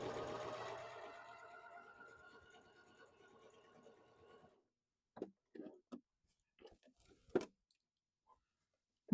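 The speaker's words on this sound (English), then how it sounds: "And we're just stitching right along here." A Bernina sewing machine stitches with a rapid, steady mechanical chatter that slows and fades after a few seconds, followed by scattered soft clicks and handling noises.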